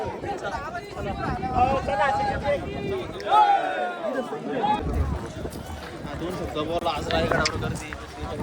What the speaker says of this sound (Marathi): रायगडवर मित्रांनो फुल जबरदस्त गर्दी आहे.